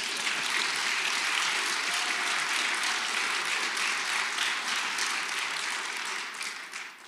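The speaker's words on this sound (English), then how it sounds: "Can we just have one more round of applause for him?" A room full of people applauds Dr. Jay Bhattacharya at a free speech prize event, a steady wash of clapping at moderate distance that tapers off toward the end.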